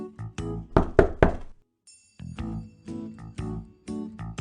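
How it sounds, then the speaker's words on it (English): Knocking on a door in a puppet-theater telling of Cinderella: a quick cluster of loud, close raps, then a pause, followed by another run of sharp knocks. "she heard the knock on the door"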